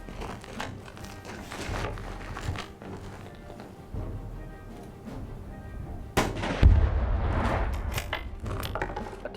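Tannerite binary explosive target set off by a rifle shot, heard as a deep booming detonation with a rumbling tail amid scattered sharp gunfire reports outdoors.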